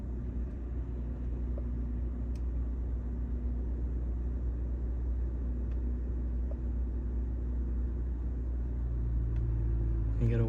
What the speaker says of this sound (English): So now we're going to go ahead and start the car